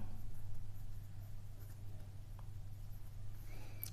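A pen scratches out a math step on paper in short, faint strokes over a low steady hum, with no speech.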